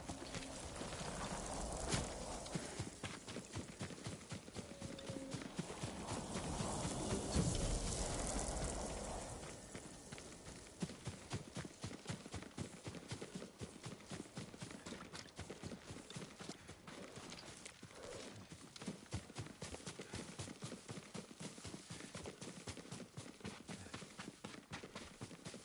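A horse gallops in Ghost of Tsushima, a video game set on Tsushima island: a fast, steady clip-clop of hooves that runs the whole time under a soft rushing wash of ambience, fairly quiet overall.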